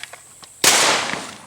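A single sharp shotgun blast rings out during an opening-week dove hunt, loud and close, following a few faint knocks and decaying into a short outdoor echo.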